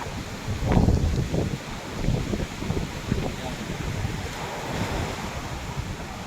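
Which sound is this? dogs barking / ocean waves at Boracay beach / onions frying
ocean waves at Boracay beach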